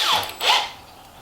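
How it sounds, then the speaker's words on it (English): A power drill whirs in two short bursts, drilling bolt holes for an electric skateboard motor mount, its motor pitch swooping up and down, close by with no talking. "drill out the appropriate hole for the 6 bolts here"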